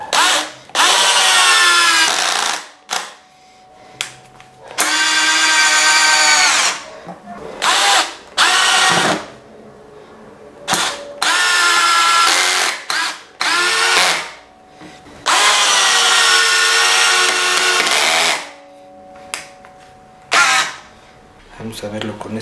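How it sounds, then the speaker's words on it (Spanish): A Black + Decker Matrix cordless drill driver whines loudly at full speed setting 10 in repeated bursts of a few seconds each, separated by short pauses, with brief speech between bursts. "Vamos a ver el taladro atornillador en el nivel 10,"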